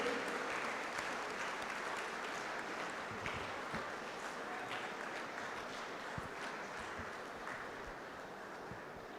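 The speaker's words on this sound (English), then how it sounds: "please give a big round of applause and a standing ovation for her long-lasting, unblemished service of IOB and IOBOA" A conference audience gives a sustained round of applause and standing ovation at a triennial union conference, a steady, broad wash of clapping that holds at an even level throughout without a break.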